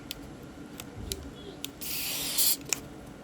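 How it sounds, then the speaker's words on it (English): Cleaner sprayed into a Pioneer CDJ-3000 DJ player comes as a hissing burst of about a second near the end, after a few light clicks and handling taps against a quiet background. "Just give it one last"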